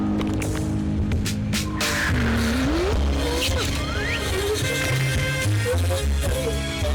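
A car in the Zenless Zone Zero video game pulls away as its tires squeal in several wavering screeches over a loud, steady engine rumble that carries through to the end.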